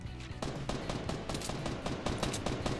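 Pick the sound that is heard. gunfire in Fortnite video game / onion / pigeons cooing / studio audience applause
gunfire in Fortnite video game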